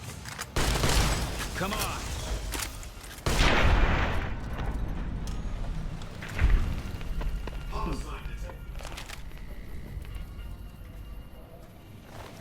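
Muffled shots from a silenced weapon in a western-style open-world game, a couple of dull thumps around loud rustling game noise with someone talking over it.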